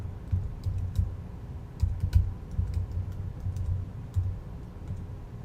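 Typing on a computer keyboard, with clusters of quick soft key taps in short irregular bursts and brief pauses, close and fairly quiet against a low background hum.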